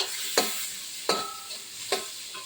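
Ground spices and garlic-ginger paste being mixed in a bowl for a prawn curry with potato, pointed gourd and ridge gourd: three soft, evenly spaced scraping strokes, close and quiet, with no voices.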